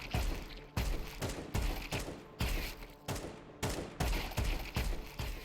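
Counter-Strike 2 rifle fired in single taps, about nine sharp shots spaced roughly half a second apart, each a punchy crack with a short decaying tail, alone without talk.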